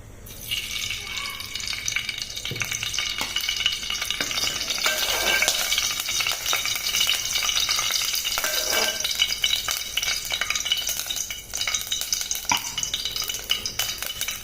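Whole garlic cloves, whole garam masala and dried red chillies sizzle and crackle in hot oil in a cooking pot for mutton curry, a steady close sizzle with occasional stirring and clinks of utensils.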